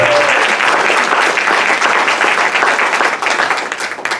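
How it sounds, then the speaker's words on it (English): An audience at a community event applauds the sponsors, a loud, close, dense round of clapping that holds steady and then begins to thin toward the end. "So how about a round of applause for them?"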